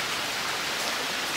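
Steady rain falls at Chaiturgarh Fort, a dense, even hiss of drops spread across the whole moment, close and constant without any voices.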